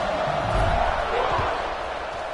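A stadium crowd at a college football game (College Football 26) roars in a steady broad wash, loud and continuous, with a commentator talking over it.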